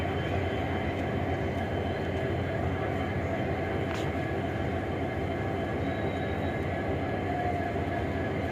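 A train idles at New Jalpaiguri railway station, a large junction with old engines. A steady, continuous rumble and mechanical hum hold at even loudness throughout, with a faint higher whine on top.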